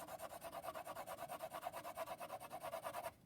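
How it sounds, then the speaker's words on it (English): A pencil shades evenly across a 5 by 6 inch rectangle of paper in a medium tone, giving a steady rhythmic scratching of quick back-and-forth strokes, close and fairly faint, that stops abruptly near the end. "grab your pencil and kind of in a medium tone, you are going to evenly color across your entire 5 by 6 inch rectangle"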